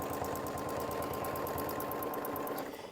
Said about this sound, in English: So I'm going to stitch through that.